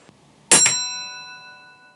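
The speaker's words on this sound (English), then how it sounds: "we tap one beat on the machine to call the attention of the signalman, and our bell rings once" A railway signal box block bell strikes once with a sharp metallic ding, its clear tone ringing out and slowly fading over about a second and a half in an otherwise quiet room.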